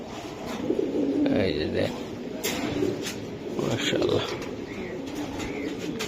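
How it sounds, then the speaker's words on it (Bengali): Racer pigeon cooing softly amid nearby Bengali-speaking voices, the low burbling calls recurring under steady conversation at a pigeon club. "এটা সুন্দর একটা কবুতর"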